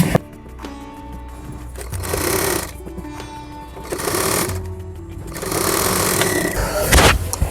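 Sewing machine stitching inner lining fabric onto a palazzo, with steady mechanical whirring bursts that start and stop in several runs, loud and close, with no talk.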